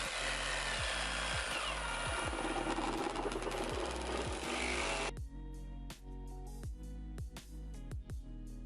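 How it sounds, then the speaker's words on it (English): A power tool cuts loudly through a plastic bumper on an Isuzu MU-X for a tow bar fit, whining steadily for about five seconds before stopping, leaving lighter handling noises. "So I'm going to chop a big hole out of the bumper here"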